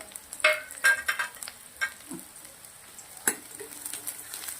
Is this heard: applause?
no